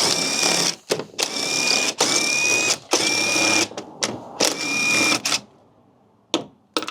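A ratchet removes 10mm bolts, its rapid clicking buzz running in repeated loud bursts with short pauses between them, close up and without talking.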